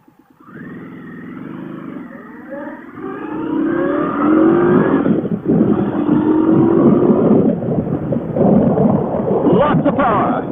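A 2016 Indian Scout motorcycle engine revs at about three-quarter throttle, its pitch climbing and growling loudly and steadily, with a voice speaking over the roar.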